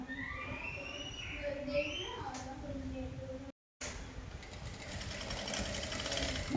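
A sewing machine stitches the crotch seam of a cigarette-bottom straight pant, its rapid mechanical whir running steadily and close in the latter half after someone speaks over quieter background.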